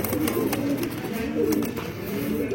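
Low-flyer striped pigeons coo in a dense, unbroken murmur from nearby, soft rolling calls layered over a light background hiss.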